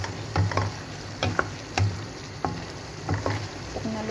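Chicken caldereta with potatoes and carrots cooks in a pan, giving soft stirring scrapes and a low sizzle in repeated short strokes over a steady background hum.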